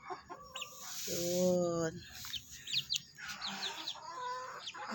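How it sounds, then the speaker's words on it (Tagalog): Chickens in a small rooftop coop on a home garden cluck and call repeatedly, several birds close by with a rooster-like call standing out, over light background noise and a brief spoken word. "Siguro mga 15 na manok kami mayroon."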